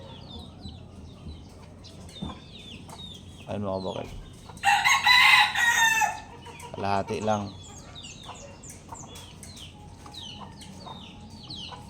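Chickens cluck and squawk nearby, with one loud crowing-like outburst in the middle, while a person talks quietly between the calls.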